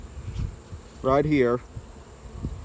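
A honey bee buzzes loudly for about half a second as it passes close during a hive inspection, set against quiet background noise.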